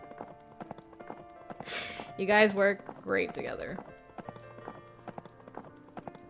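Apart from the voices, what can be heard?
horse hooves during horseback riding in the video game Steam Prison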